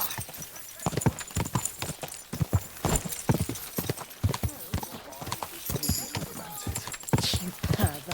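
Horse hooves clip-clop steadily in Kingdom Come: Deliverance II, a fast, even rhythm of sharp close hoofbeats that runs throughout, with faint game ambience underneath.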